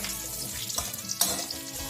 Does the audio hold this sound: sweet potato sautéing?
yes